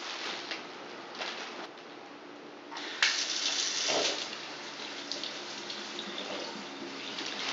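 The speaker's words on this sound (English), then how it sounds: "First we're going to rinse the potatoes." Potatoes rinsed under a running kitchen tap, a soft steady stream of water with splashing that grows louder midway as the flow hits them, fairly quiet overall.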